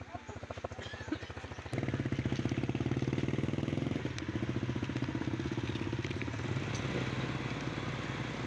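Three motorcycles on an outing to the sea putter along, an engine chugging in a fast steady rhythm that grows louder and closer partway through and carries on throughout, with people talking over it.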